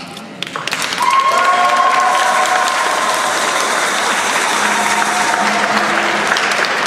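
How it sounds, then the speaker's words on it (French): A church congregation at a wedding blessing in Montargis applauds the newly married couple, warm clapping swelling in after a second and holding steady and full, with a faint sustained tone beneath. "si nous pouvons les applaudir chaleureusement"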